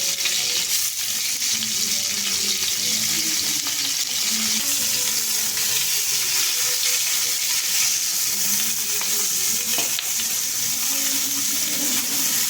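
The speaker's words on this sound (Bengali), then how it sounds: "হালকা করে এপিট ওপিট করে ভেজে নেব" Giant river prawns fry in a wok, a loud continuous sizzle and crackle of hot oil with occasional stirring, steady throughout and free of speech.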